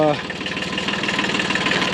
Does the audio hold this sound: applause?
no